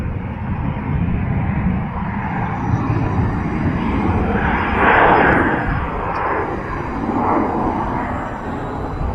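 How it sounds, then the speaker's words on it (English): A jet airplane takes off from DeLand Airport, a loud continuous broadband roar that swells slightly midway and holds steady, with no talk over it. "Listen, the jet's taking off."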